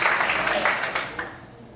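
A church congregation applauding, a broad wash of many hands clapping together at once, loudest at the start and gradually fading out over under two seconds.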